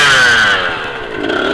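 Dirt motorcycle engine revving hard as the rider climbs a foothill trail, a loud close buzzing whine that rises and falls in pitch, with no talking.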